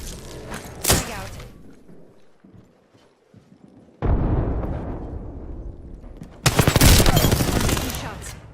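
Apex Legends gunfire and a frag grenade explosion: sharp shots early, a quiet lull, then a loud sustained burst of firing followed by an even heavier blast-like barrage near the end.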